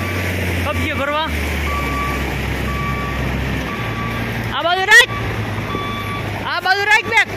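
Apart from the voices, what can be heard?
tractor reversing with beeping alarm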